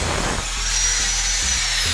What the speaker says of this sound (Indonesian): Kita lubangi ke 4 tiang